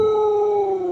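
A dog gives a single sustained howl, close and fairly loud, a clear tone held for about a second and sliding slightly downward in pitch, with no talking.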